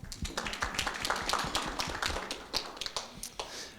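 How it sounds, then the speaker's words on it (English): Audience applause at a school event at the International School of Kuala Lumpur, a dense burst of many hands clapping close and loud, with sharp individual claps standing out, and no talking. "Give yourselves a round of applause."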